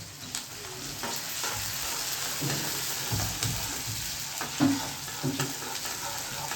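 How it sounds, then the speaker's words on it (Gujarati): Onion, chilies and tomato fry in hot tempering oil with asafoetida for a Gujarati bitter gourd dish, giving a steady close broadband sizzle with occasional stirring clatter and small pops throughout. "વઘાર જો કેવો સરસ આવે."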